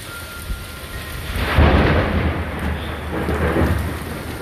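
Thunderstorm over Austin, with a heavy rumble of thunder swelling and rolling beneath steady rain pattering on surfaces, loud and close.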